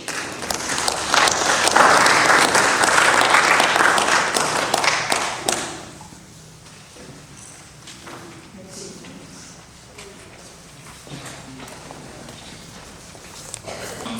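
A crowd at an assembly breaks into loud applause that swells, then drops sharply to scattered, fading claps and light room noise.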